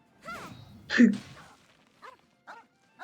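A dog in a video game gives a few short barks and yips, with one louder bark near the middle and fainter ones trailing after.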